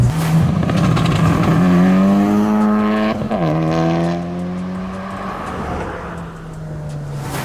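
A tuned Honda Civic Type R FK8 with about 400 whp and rolling anti-lag accelerates hard in fifth gear. The loud engine drone rises steadily in pitch, with a brief pop midway, then settles into a sustained roar.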